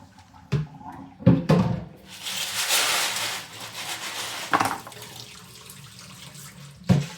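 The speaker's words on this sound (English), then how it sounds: "I can just do a single rinse with clean water" Running water splashes steadily from a tap for several seconds, rinsing LEGO minifigures in a salad spinner, framed by a few sharp knocks and clunks at the start and end.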